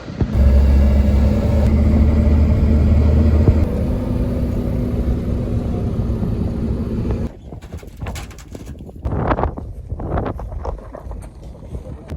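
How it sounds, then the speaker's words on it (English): A four-wheel-drive vehicle crossing sand dunes on a Pinnacles Desert tour gives a loud, steady engine rumble with wind buffeting the microphone, then drops to a quieter, uneven drone with occasional surges. "we're gonna go from our tour bus onto this four-wheel driving car, and we're gonna go drive over the sand dunes."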